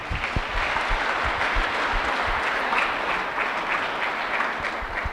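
A church congregation applauds for the Lord during a Sunday service, a steady wash of clapping running throughout with no pauses.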